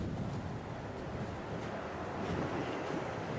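Strong wind blowing across an island in the video game Dear Esther, a steady low roaring rush with a faint surf-like wash, continuous and fairly quiet, with no voices.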